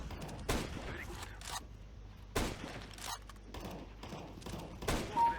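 SSG 08 sniper rifle shots in the video game CS:GO: several sharp, loud gunshot bursts spaced unevenly over a few seconds, each with a brief mechanical tail, and quieter game noise between them.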